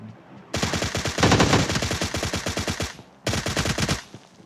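Rapid automatic gunfire in the PUBG video game, two loud close bursts of evenly spaced shots, the first long and sustained, the second shorter after a brief pause.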